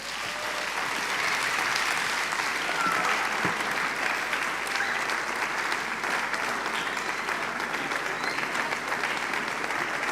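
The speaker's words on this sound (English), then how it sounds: "Can we keep on clapping?" An audience at a leadership masterclass applauds continuously, a thick, sustained wash of many hands clapping at once, loud and even throughout with a faint murmur of voices beneath.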